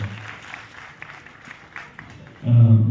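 An audience applauds the Chennai Strings Orchestra musicians at a film first-look and title launch event. The clapping is a soft, diffuse patter, and a louder, low, sustained sound cuts in near the end.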